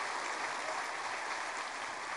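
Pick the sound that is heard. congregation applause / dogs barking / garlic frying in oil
congregation applause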